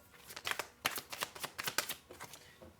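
Tarot cards shuffled and drawn in a quiet reading, a run of soft, crisp riffling flicks and slaps in irregular bursts, close and fairly faint, with no voices.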